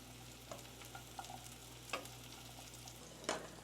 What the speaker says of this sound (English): now we go in with our mushrooms. And we're going to saute these.